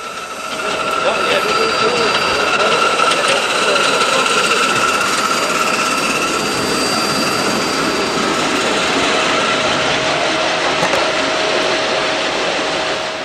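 A 2.5-inch gauge Garratt model steam locomotive runs on a miniature railway track at a club trophy competition, giving a steady, loud mechanical rumble with a whine that holds at the same level throughout.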